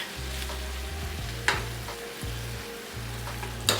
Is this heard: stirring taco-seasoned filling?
yes